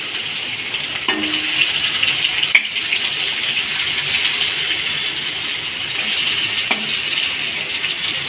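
Pointed gourd with cumin frying in a pan with little oil, a soft continuous sizzle with occasional stirring knocks and scrapes.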